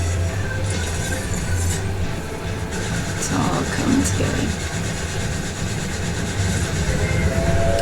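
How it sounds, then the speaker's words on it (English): Steady rumble and rolling rattle of a moving train in the Final Fantasy XIV Sigmascape raid, a continuous low drone that runs through the whole stretch while someone speaks briefly over it. "So we're on a train"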